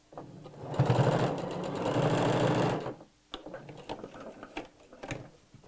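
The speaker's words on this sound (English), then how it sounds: "sew straight across all of those seams" Sewing machine stitching straight across the seams of a fabric evening bag: a loud, close continuous motor whir for about two seconds, then stopping, followed by a few light clicks and handling taps.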